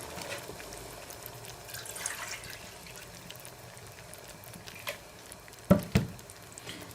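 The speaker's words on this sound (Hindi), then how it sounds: "तो अब हम इसमें चावलों के लिए पानी शामिल कर लेंगे।" Water is poured into sizzling fried masala in a cooking pot while making matar pulao rice, a low wet splashing bed with a few sharper splashes and clunks near the end; nobody speaks.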